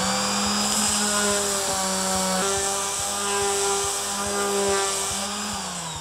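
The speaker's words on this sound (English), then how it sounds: "when I put it to the material, you'll notice that this disc doesn't spin too fast." An orbital disc sander working across a surface, a steady close whine with a low rotating hum and faint regular ticks, running continuously without talk.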